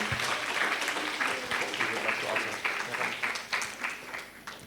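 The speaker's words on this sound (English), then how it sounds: "Please give a warm applause" Steady applause from a conference audience after a plenary presentation, a dense patter of clapping that holds for several seconds with a few louder claps standing out.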